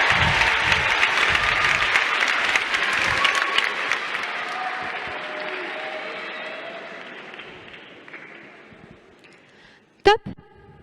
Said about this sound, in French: Un tonnerre d'applaudissements pour Maëlie.